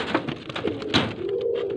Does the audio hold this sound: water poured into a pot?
no